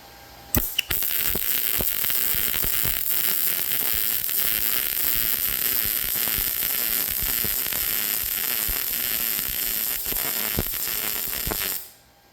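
A welding torch dragging a bead along metal gives a loud, continuous crackling hiss. It starts abruptly after a couple of sharp clicks, holds steady for about eleven seconds, then cuts off cleanly, with no voices.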